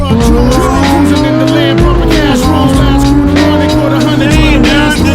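A manual Porsche GT3 sports car drives with a loud, sustained engine note, gear changes and some tire squeal, close and dominant throughout.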